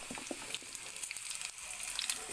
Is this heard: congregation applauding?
no